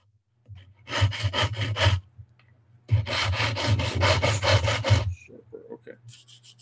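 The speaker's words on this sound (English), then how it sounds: "let's use the 320 paper sanding stick" A small brass hook is sanded with a 320-grit paper sanding stick in two bursts of quick back-and-forth rasping strokes, close and crisp, separated by a short pause and followed by a few lighter strokes.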